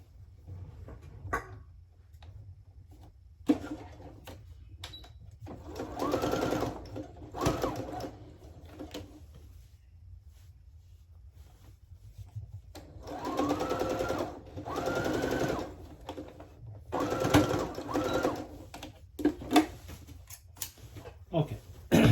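A sewing machine runs a second reinforcing stitch along men's plaid fabric pants in several close, whirring bursts, with a person talking in the pauses between runs.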